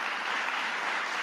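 An audience applauds steadily with dense, even clapping that neither rises nor fades over a brief moment, and no voices are heard above it.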